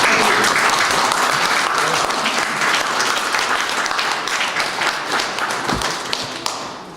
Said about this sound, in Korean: 열심히 살아온 선생님에게 우리 격려와 찬사의 박수 한번 부탁드리겠습니다.